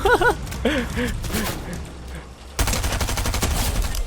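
Fortnite gunfire comes in a burst of rapid shots, then a short lull, then a louder, denser volley of automatic fire, with gasp-like vocal sounds early on.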